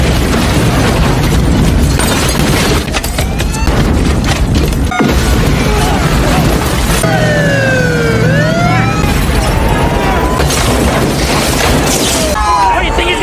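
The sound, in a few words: massive explosions destroying a pier in The Specialist movie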